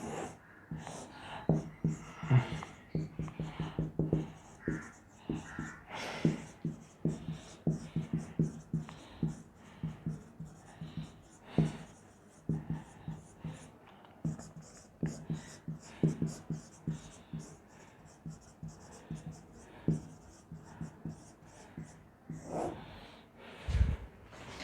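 Pen writing accounting entries by hand, a steady scratchy scribbling in quick short strokes running throughout at moderate level, with soft breaths and small handling noises around it.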